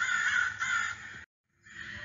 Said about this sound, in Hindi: प्यासा कौवा।